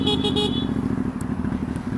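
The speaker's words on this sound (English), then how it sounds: "Are you ready to hear my exhaust?" An Aprilia Shiver 750 motorcycle burbles through its exhaust at a low, pulsing idle, close and loud, with a few short horn-like toots near the start.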